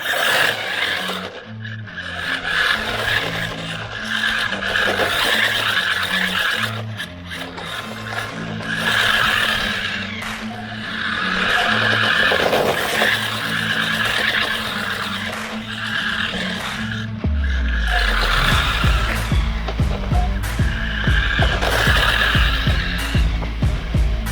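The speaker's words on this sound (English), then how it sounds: "let's have a bit of fun with this little truck" A small SG1610 Pinecone 1/16-scale RC drift truck drives around. A steady electric motor whine rises and falls with bursts of skidding, and a constant tonal background runs underneath throughout.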